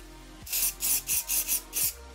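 Six short hissing bursts of beard spray in a quick, fairly even sequence, each a sharp puff of aerosol, close by.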